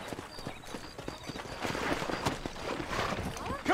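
Rhythmic hoofbeats of a horse in Red Dead Redemption clop along at a brisk pace, growing busier midway, with game-like ambient sounds and a little speech underneath.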